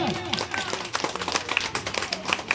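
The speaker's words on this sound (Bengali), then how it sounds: "জোরে হাততালি হয়ে যাক" Scattered clapping from a crowd at a home Janmashtami puja festival prize-giving, uneven and close, mixed with people talking.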